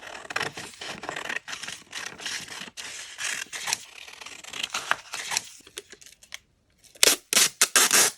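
Scissors cut through a printed paper image in a series of close, crisp snips and scrapes, followed by a brief silence and then a few sharper rustles.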